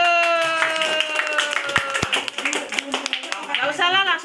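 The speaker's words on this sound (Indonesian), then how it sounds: "beri tepuk tangan." A group clapping hands at a youth community health post gathering for a waste-sorting bank event, scattered claps mixed with voices and a sustained tone that fades, with people talking over it.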